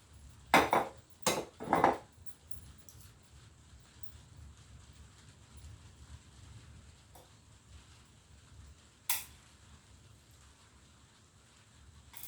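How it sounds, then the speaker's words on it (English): Orchid potting mix is scooped out of a small pot in a quick cluster of rattling, scraping clatters, then a long quiet stretch broken by one more short rustle near the end. "So I'm going to take out some of this potting mix"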